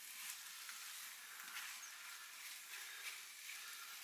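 King prawn curry sizzling and frying over fairly high heat while being kept moving in the pan, a steady soft hiss and crackle close by, with no talk.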